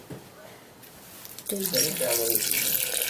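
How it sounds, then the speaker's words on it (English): Water poured into a blender jar over ingredients for a blended drink, a splashing, rushing pour starting partway through and continuing steadily to the end, close and fairly loud after a quieter opening. "Alright, so I'm gonna be pouring in some water,"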